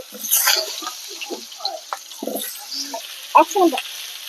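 Potatoes tipped into hot oil tempered with cumin seeds and a bay leaf for a vegetarian Bengali dish, giving an uneven sizzle broken by scattered clinks and scrapes of stirring up close.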